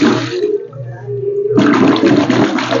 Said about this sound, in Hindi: हाथ ला धो ले अच्छा से हाथ ला धो